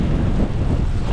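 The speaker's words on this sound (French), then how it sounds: "Mais là, le vent est très fort." Strong wind buffets the microphone on a gravel bike ride, a continuous, loud low roar with no pauses.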